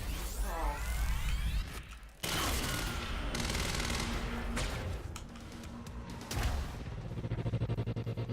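Bursts of gunfire aimed at the player in the Quantum Break video game, rapid loud volleys mixed with mechanical clatter, whooshes and thuds, steady and up close, with a brief gap early on.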